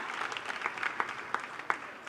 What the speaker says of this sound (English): When you guys just threw that applause at him